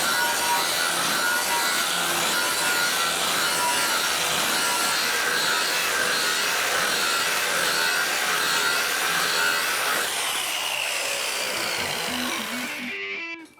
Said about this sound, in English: So I'm just going to grind the back of this panel right now just before we bring it up.